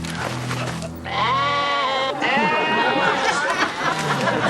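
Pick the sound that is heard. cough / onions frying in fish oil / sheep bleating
sheep bleating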